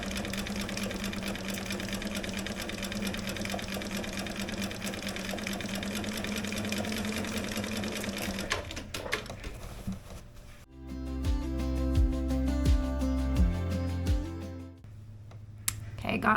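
A sewing machine stitches a gnome quilt in a steady fast rhythmic whir, first under a constant hum, then stopping and restarting with sharper, louder stitching, with a brief pause before the end.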